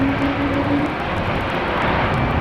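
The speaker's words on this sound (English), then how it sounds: "E2 Embraer just landed." An Embraer E2 jet airliner rolls out after landing at Amsterdam Schiphol, its engines giving a steady, loud broadband roar with a faint low tone, nearby and continuous throughout with no talking.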